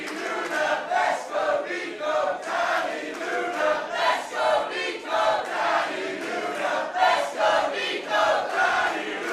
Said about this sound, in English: Crowd is getting louder.